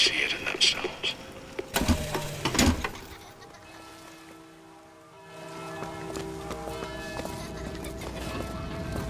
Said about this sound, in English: Wow. Mechanical horse.